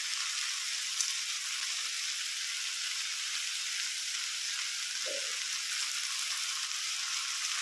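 Tomato pieces for a banana curry sizzle in a pan, a steady close hiss of frying that runs evenly from start to finish with a faint stir or two.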